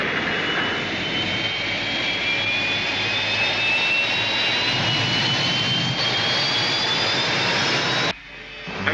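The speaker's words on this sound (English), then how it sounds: "Rescue ship moving." A rescue spaceship's engine in the science-fiction series Space: 1999, a loud, steady jet-like roar with a slowly rising whine that runs unbroken for several seconds before abruptly cutting off.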